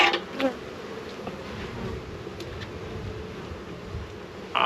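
Bees swarming over an opened hive in the middle of the honey flow, where a colony is being split, make a steady close droning buzz that holds through the whole stretch with small swells.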